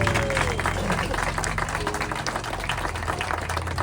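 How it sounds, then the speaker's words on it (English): A crowd at an outdoor rowing race gathering for wooden boats claps steadily in a warm round of applause, close and continuous, with a low hum and faint voices underneath. "Big round of applause for Scott."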